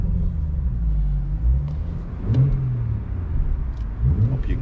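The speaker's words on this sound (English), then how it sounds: "So it's a very nice exhaust notes coming out of this 440." A 2018 BMW 440i Convertible in Sport mode gives a deep, steady exhaust rumble with a couple of brief throttle blips rising in pitch, heard fairly close with no talking.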